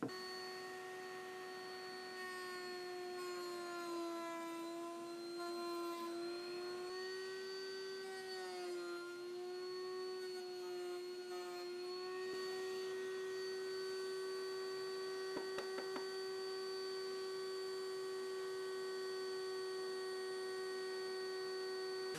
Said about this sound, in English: I'm going to use my router to take some of the stock off